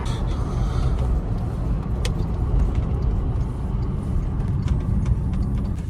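Steady low rumble of a car driving on a road in Ukraine, heard from inside the vehicle, continuous and loud, with a few faint clicks and no talking.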